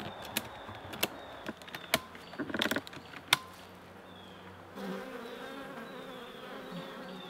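Honey bees buzz around an open backyard hive during an inspection, a steady close hum with scattered sharp bursts and a louder broad drone in the final seconds.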